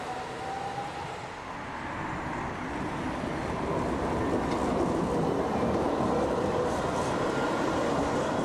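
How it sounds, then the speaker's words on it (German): Dortmund Stadtbahn B80C high-floor light-rail train on the U47 pulling away from Westerfilde station, its motor and wheel noise building gradually from a moderate rumble to a louder, sustained roar. "An der Station Westerfilde macht sich ein Zug der U47 nach Aplabeck auf den Weg."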